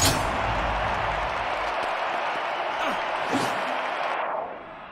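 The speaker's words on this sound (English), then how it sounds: "Crowd responding to that." Crowd applause and cheering from a virtual stadium audience in the London 2012 Olympic video game after an athletics attempt, a steady broadband wash that holds for about four seconds before cutting off, with faint game effects.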